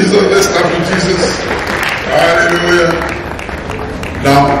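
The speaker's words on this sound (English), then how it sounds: "Let's clap for Jesus." Wedding guests in Lagos, Nigeria clap for Jesus during the ceremony, steady crowd applause blended with voices and background chatter throughout.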